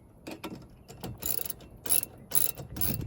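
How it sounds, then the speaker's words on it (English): A ratchet with a 10mm socket tightens bolts while installing a Chapin 8622B tow-behind turf spreader, giving several quick bursts of sharp clicking pawl ticks close up, with short pauses between strokes. "Now we're just going to go ahead and tighten all these up using our crescent and 10mm socket"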